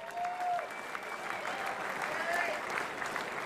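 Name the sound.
audience applause at Muay Thai event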